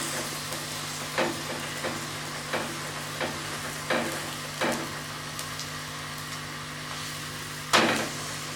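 Stuffed aloo paratha on a hot griddle, pressed down with a cloth: a steady low sizzle under a series of soft, evenly spaced pressing dabs, ending with a sharper touch near the end.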